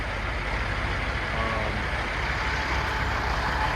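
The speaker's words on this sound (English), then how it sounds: "There's been a lot of trucks coming and going out of here." Heavy trucks idle and rumble at a busy yard where a CAT 336FL excavator waits for delivery, a steady loud diesel drone filling the scene with a faint beeping tone partway through.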